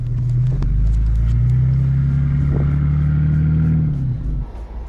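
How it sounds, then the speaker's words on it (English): A vehicle stuck in a mud pit near Utah Lake revs its engine hard, a loud continuous rumbling roar with rising and falling pitch that fades near the end. "Dad tried to pull out without putting in 4-wheel drive and locking the lockers, and he just buried it."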